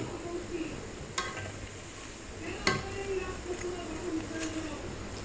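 Chicken cheese balls fry slowly in oil on low heat as a soft, continuous bubbling sizzle, broken by a few sharp clicks from utensils. Nobody speaks.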